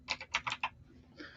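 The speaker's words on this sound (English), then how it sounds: "This is going to be loud because I'm going to type." Keys clack on a computer keyboard in a quick burst of about five close, crisp taps, followed after a short pause by one more softer keystroke, with no talking.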